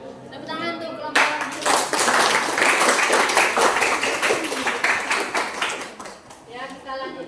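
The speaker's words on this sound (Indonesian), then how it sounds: "Tepuk tangan untuk kelompok" Audience clapping for a presenting group at a classroom presentation session, a dense burst of many hands after a short spoken lead-in, holding steady for several seconds before thinning out as a voice returns.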